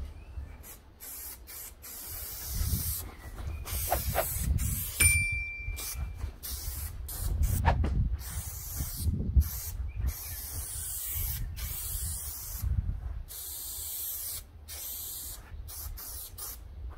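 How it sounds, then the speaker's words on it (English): Spray adhesive hissing from an aerosol can during a VW Crafter campervan self-build, several short and longer bursts of close, loud spraying separated by brief gaps, with faint metallic clinks. "Use this to spray another thing, so you'll see there's a little bit of glue in it."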